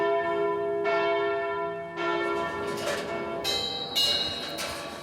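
A church bell in Czechia rings loudly and nearby, tolling noon, several strikes whose rich metallic tones overlap and hum as they decay.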